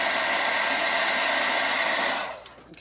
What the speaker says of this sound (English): Might have to go to my other heat tool.